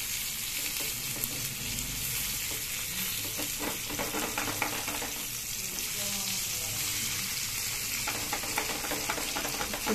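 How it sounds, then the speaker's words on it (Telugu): Food fries steadily in a hot pan, a dense, loud sizzle that holds throughout, with occasional scrapes and clatters as pieces are turned. "చూసారా వేగుతున్నాయా?"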